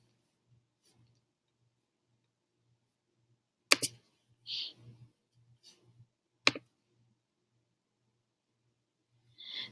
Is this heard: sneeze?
no